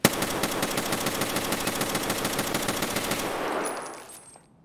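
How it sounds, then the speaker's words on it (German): An M1A rifle in Escape from Tarkov fires in rapid, evenly paced shots, about a dozen per second, loud and close, ending with a fading echo tail. "ich versuche so schnell wie möglich zu schießen"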